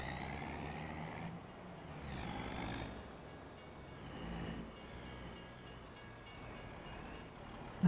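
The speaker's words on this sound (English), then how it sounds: "I hear a train." A train rumbling past in the farming video game Farming Simulator 25, a low rolling drone with rising and falling whines and faint rhythmic clicks, heard at moderate distance alongside light vehicle noise.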